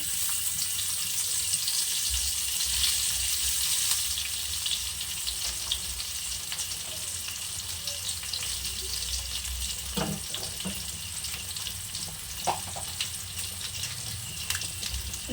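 Chopped garlic frying in mustard oil in a very hot pan, a steady broadband sizzle and hiss throughout with a few faint clinks and scrapes near the end, no talking.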